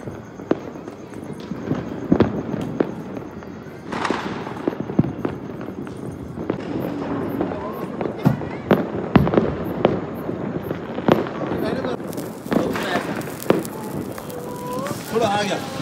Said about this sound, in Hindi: सब इतने पटाखे फोड़ रहे हैं।